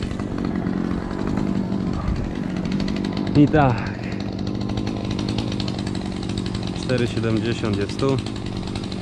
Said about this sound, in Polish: Piła niech się grzeje.